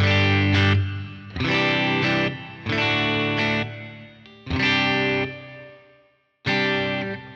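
Electric guitar played through a Line 6 HX Stomp with the Plateaux shimmer reverb, giving distorted, effected chords in several sustained bursts separated by short gaps and one brief silence near the end.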